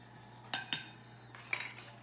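A utensil scrapes and clinks against a mixing bowl while spices go into pumpkin chocolate chip cookie batter, giving three sharp, separate knocks with quiet between them and no talk.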